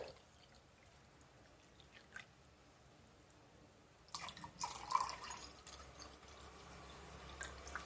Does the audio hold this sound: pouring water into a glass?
yes